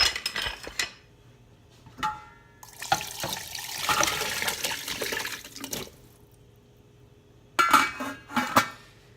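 Water and vegetables poured from a pitcher into a stock pot for bone broth, a splashing pour in bursts with clinks of the pot and utensils, close and moderately loud.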